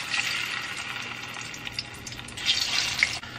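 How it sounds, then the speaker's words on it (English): Plantains frying in a pot make a steady, close hiss that sizzles on without a break for a few seconds and swells slightly toward the end, with no voices over it. "Last but not least, I'm gonna fry my plantains"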